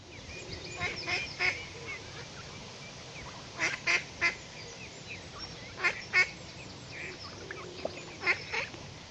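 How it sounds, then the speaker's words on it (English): Ducks and geese call at a lake, with repeated honks and quacks in irregular bursts at moderate distance over quiet outdoor ambience. "Do we have to share our lake with all these ducks, for heaven's sake?"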